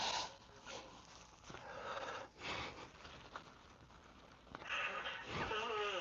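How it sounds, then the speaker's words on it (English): Someone blows their nose close to a sensitive microphone in a quiet room, with a few breathy, honking bursts of air, the strongest near the end. "gotta blow my nose really bad"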